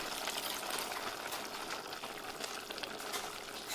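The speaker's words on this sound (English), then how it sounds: "This is pouring some shoyu in there" Kikkoman shoyu soy sauce is poured into a pot in a home kitchen on Kauai, Hawaii, a steady hissing, bubbling sizzle that carries on evenly at moderate volume.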